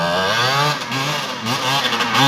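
A trail motorcycle engine revs hard on a steep dirt-track climb, close and loud, its pitch rising and falling in quick surges over about two seconds with no talking.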